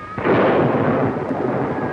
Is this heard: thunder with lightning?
yes